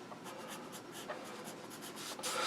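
A pencil scratches across paper in short repeated strokes while drawing eyebrows and eyelashes on a character face, a close, soft, rhythmic scraping with no talking.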